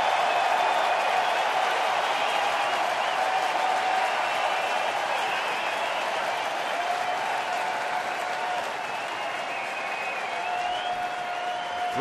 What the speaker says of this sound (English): And the big crowd's starting to make some noise.